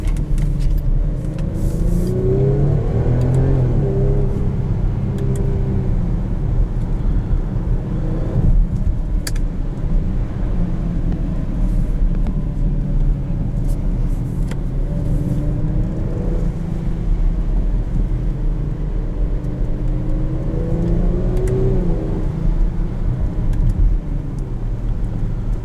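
A 2020 Range Rover Velar P340 S R Dynamic accelerates in several repeated surges, its engine note and intake whine climbing then dropping over steady road and cabin noise, heard from inside the car.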